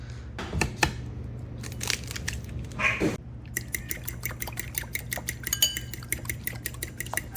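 Panko breadcrumbs added to a bowl for fried pickles: a burst of scraping and pouring, then a long run of rapid, light crisp ticks and rustles close by in a quiet kitchen.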